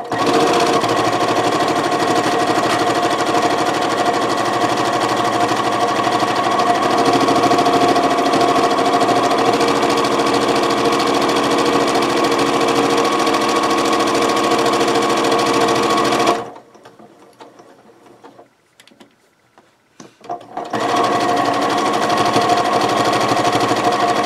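A sewing machine stitches around a quilted potholder, running steadily at high speed with a dense mechanical whir, stops briefly for a few seconds, then starts up again.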